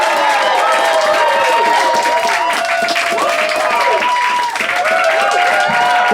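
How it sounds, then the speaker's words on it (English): A comedy club audience claps and cheers for a stand-up comedian, loud dense applause sustained throughout with whoops and a wash of crowd noise. "keep clapping. Keep clapping."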